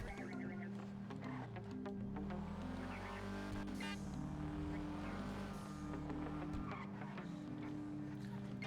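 A car driving in GTA Online, its engine holding a steady tonal drone that rises and falls with gear changes, loud and continuous, with a brief whoosh midway.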